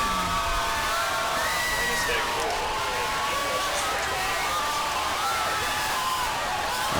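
Crowd at a 2011 Waukesha South high school football game, a dense wash of cheering, whoops and shouts sustained steadily and fairly loud throughout.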